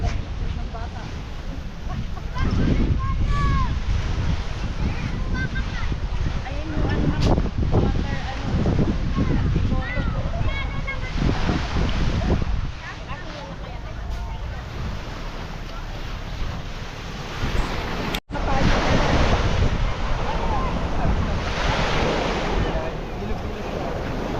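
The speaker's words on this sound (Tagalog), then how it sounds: "hindi gaano malakas ang alon." Sea waves wash and surge steadily under heavy wind buffeting the microphone, with voices talking intermittently over the roar.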